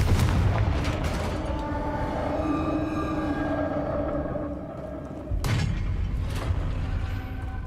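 Confringo blasting spell going off in Hogwarts Legacy, a loud sustained booming rumble with a second sharp blast near the end, no talk.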